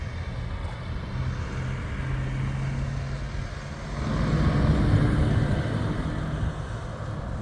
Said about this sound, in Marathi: तर समोरून जे येतं आहे ते यांचं ट्रॅक्टर आहे बघा